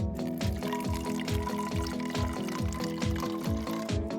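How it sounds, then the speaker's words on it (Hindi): Blue cola being poured into an emptied container, heard as a continuous, fairly loud splashing pour with a bubbling, gurgling pulse and no talking. "पहले एक कंटेनर खाली करें, अब उसमें ब्लू कोला डालें।"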